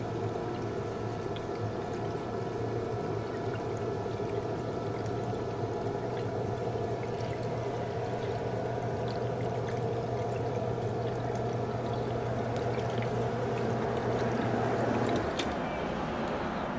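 A Green Expert 1/3 HP submersible sump pump runs steadily, a continuous motor hum with churning, pouring water held at an even level, and a slight shift near the end as it winds down.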